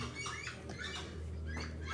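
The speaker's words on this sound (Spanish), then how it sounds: "se oyen los pajaritos de fondo" Small birds singing in the countryside around Bijagua, with quick high chirps and short trills at a moderate distance over a low steady hum, no talking.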